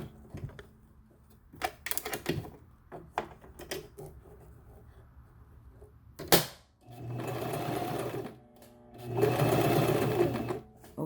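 A sewing machine stitches a wig in short rattling bursts, then two longer steady runs of fast, close mechanical whirring.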